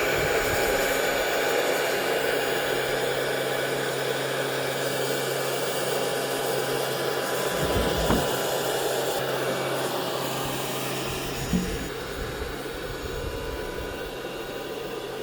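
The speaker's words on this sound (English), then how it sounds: "Fantastic dyno motor." The dynamotor of an AN/GRC-9F military radio set runs with a steady, dense whirring whine and hum, continuous and close, with a couple of faint clicks.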